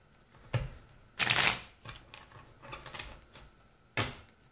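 Tarot cards are shuffled by hand for a reading: soft, quiet riffles and rustles in a few separate bursts, one longer and louder than the rest.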